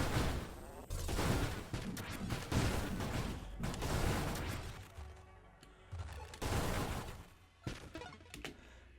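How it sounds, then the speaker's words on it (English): Repeated explosions in the space shooter game Nova Drift boom and crackle in dense clustered blasts, swelling and fading over several seconds, fairly quiet overall with short gaps between volleys. "Let's just blow up the guy in the middle, let it explode outwards."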